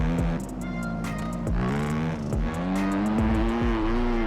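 Dirt bike in the video game MX Bikes revving hard through repeated gear changes, the engine pitch climbing and dropping several times in a loud, rapid sequence.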